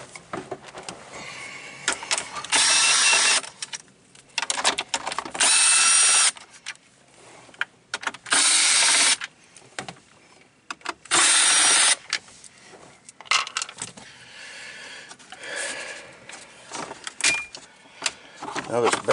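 A power drill fitted with a 7mm socket backs out bezel screws from a Jeep Wrangler dash, sounding in four loud, steady whirring runs of about a second each, separated by handling noises and someone talking.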